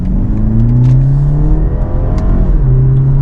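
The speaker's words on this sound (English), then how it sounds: "that is amazing that that's a little 2-liter 4-cylinder engine" A 2024 BMW 330i with a 2-liter four-cylinder engine accelerating hard in Sport mode, loud and close from inside the car, revs climbing in rising sweeps with a brief dip at an upshift, no voices.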